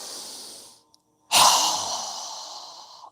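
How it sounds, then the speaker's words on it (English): A strong, open-mouthed yoga exhale rushes out loud and close, trailing off slowly after a softer breath and a brief pause. "exhale with a strong breath with our mouth open wide"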